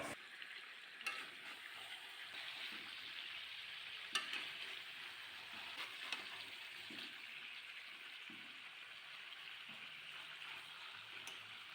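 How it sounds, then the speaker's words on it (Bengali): Chicken curry with green chilli paste sautéing in a pan, a faint, steady sizzle running throughout with occasional soft stirring scrapes and taps. "আরও একটু কষিয়ে নেব।"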